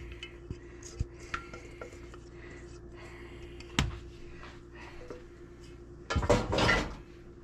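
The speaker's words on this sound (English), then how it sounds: "I'm going to spoon in my apple pie apples." Apple pie apples being spooned into a baking dish for apple cobbler, with a few light metallic clinks and taps, a sharp knock midway, then a wetter scraping burst near the end.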